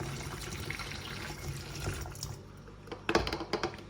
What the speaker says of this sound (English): So let's add some water. 200 ml of water to be precise.